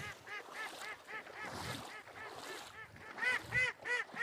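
Ducks call in a series of nasal, honking quacks, repeated in quick rhythmic bursts, fairly close and clear, with several birds overlapping.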